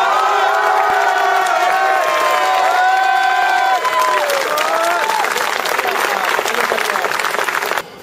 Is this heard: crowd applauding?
yes